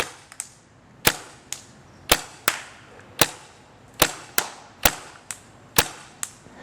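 Paintball marker fitted with an Apex curving barrel, firing about a dozen crisp, sharp pops at irregular intervals outdoors near a tree. The shots sound close and loud, each followed by a brief decay.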